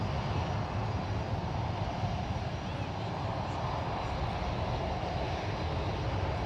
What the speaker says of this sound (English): There goes a Flexjet Challenger 350